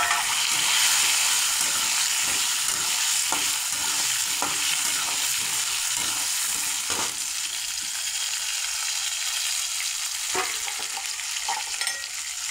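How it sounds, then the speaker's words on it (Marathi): Eggplant stir-fried in a hot pan of oil, a steady close sizzle with repeated scraping clicks of the spatula stirring throughout, no voices. "हा बघ आता त्यात घ्यायचे वांगे घालून"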